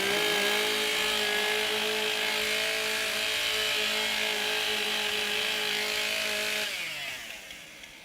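Chainsaws warm up at a professional timbersports championship, a loud, continuous high whine with a steady engine drone that holds evenly, then drops away and fades near the end.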